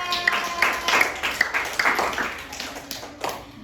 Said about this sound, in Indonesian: Beri tepuk tangan buat Media.